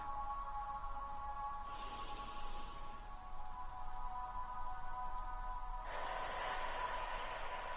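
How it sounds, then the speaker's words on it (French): A slow exhale through the mouth during a guided relaxation breathing exercise comes as soft, breathy hissing in two separate gusts, the second longer, over a faint steady background hum. "Bloquez quelques secondes votre respiration et expirez par la bouche."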